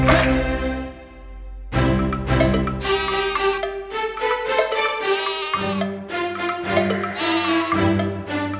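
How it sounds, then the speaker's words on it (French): A sheep bleats several times in wavering, nasal calls over bouncy children's nursery-rhyme music. "Baba, mouton noir, as-tu de la laine?"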